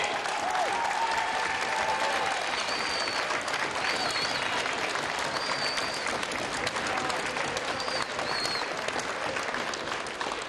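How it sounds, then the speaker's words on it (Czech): A large crowd claps steadily throughout the closing ceremony of the 2016 national school floorball final in Benešov. Sustained dense applause fills the hall, with a few faint high whistles rising above it. "Současně bych vás chtěl poprosit o velký potlesk pro Jindru Slunečka a jeho organizační tým"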